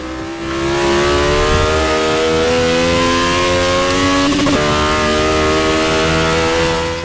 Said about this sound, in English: But I am enjoying driving this car.